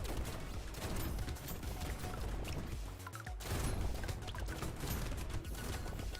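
Rapid, dense bullet fire crackles through the final wave of the Brotato video game, a steady barrage of overlapping shots with a brief dip midway before the firing resumes at full intensity.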